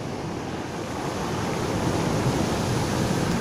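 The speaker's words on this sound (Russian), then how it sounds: "Я снимаю не просто высокие волны на Черном море, а настоящий шторм." Storm waves on the Black Sea at Batumi crash and roar continuously, a loud, dense wash of surf mixed with wind, with no voices.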